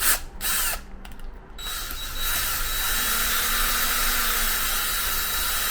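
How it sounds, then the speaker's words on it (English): A power drill bores through material, the bit binding as it goes; a few sharp clattering starts at first, then a steady grinding whir that holds on loudly and close. "The drill bit keeps binding up on me."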